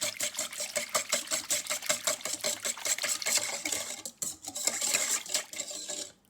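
A spoon or whisk stirs chicken marinade ingredients with mustard in a bowl, quick rhythmic clinking and scraping against the bowl, fairly close and moderately quiet, with a short pause before the stirring resumes.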